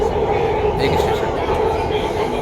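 Delhi Metro train running, a steady loud rumble and rolling hum filling the whole stretch, with no distinct clacks, heard from inside the carriage.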